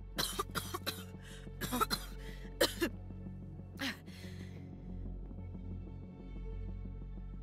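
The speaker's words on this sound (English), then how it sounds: "Why am I coughing?" A character in the video game Eye 4 Eye coughs in a few sharp bursts over a steady low background hum, then the coughing stops and only the hum continues. No speech.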